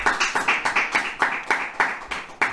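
A church congregation claps in a steady rhythmic beat, roughly five to six sharp claps per second blending into a strong, even pulse, near and fairly loud, with no words over it.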